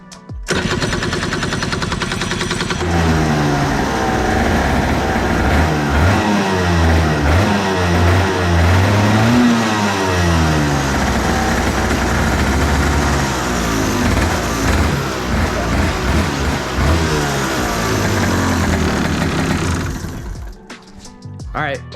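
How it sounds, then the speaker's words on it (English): A carbureted go-kart engine cranks, catches and revs repeatedly, its rough rising and falling buzz loud and close for about twenty seconds before cutting off. "I really want to start this go-kart up."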